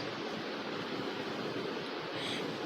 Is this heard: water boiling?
yes